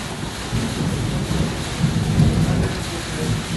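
Heavy rain pours at Royal Phuket Marina while thunder rumbles low and rolling through the downpour, swelling louder toward the middle, with no talking.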